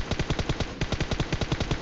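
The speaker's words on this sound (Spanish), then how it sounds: "Solo escuché un disparo que me chifló la oreja" Rapid automatic gunfire in the video game PUBG on the Vikendi map, a dense string of about twenty evenly spaced shots in a sustained burst, moderately loud with no talking.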